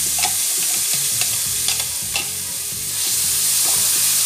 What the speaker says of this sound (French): on va mettre la tomate qui a été mixée avec de l'ail et un peu de branche de céleri.